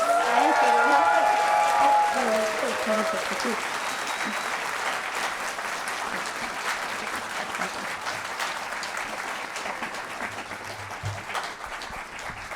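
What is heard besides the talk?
audience applause at a convention interview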